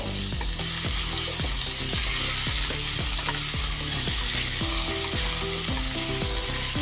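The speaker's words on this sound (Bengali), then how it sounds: "তেলটা গরম হয়ে গেলে এর মধ্যে আমি কেটে ধুয়ে রাখা আলু আর কুমড়োটা দিয়ে দেব" Cut potato and pumpkin pieces frying in hot oil for kumror chhokka with a salt sprinkle, sizzling loudly under a busy, regular clatter of a spatula stirring against the pan, close and continuous without voices.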